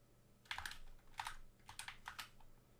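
Quick keystrokes on a computer keyboard while entering a command in a Linux terminal, clicking in short uneven bursts, close and fairly quiet, with no voice.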